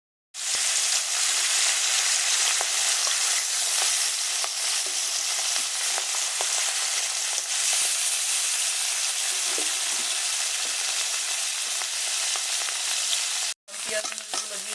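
Onions sizzling and frying in a pan for a Bengali fish curry with potatoes and pointed gourd, a dense continuous hiss with occasional stirring clicks, close and steady, briefly cutting out near the end.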